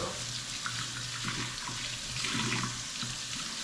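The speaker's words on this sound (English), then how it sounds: "And now I'm taking out my combs. And I'm gonna rinse them." A barber's chemical-resistant combs are rinsed under a running tap, water splashing steadily into a sink with soft irregular spatter, moderately quiet and without talk.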